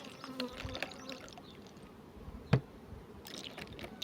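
Honey bees hum faintly beneath a steady wash of noise at an apiary, with a sharp knock partway through and sugar syrup trickling.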